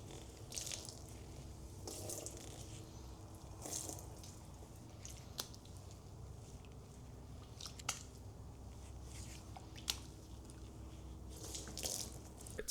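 A deer hide sloshes and squishes as it is worked by hand in a tub of water, a faint wet churning with recurring splashy surges every couple of seconds.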